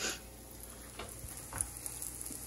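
Pancake batter squeezed from a ketchup bottle sizzling in a hot pan, a soft steady frying hiss close by with a few faint clicks and scrapes, no talk.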